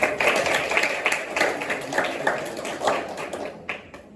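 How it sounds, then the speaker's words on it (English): A youth retreat audience gives a round of applause to welcome two guests, with loud, close, dense hand clapping that keeps a fairly even level for about four seconds before tapering off. "Please give them a round of applause."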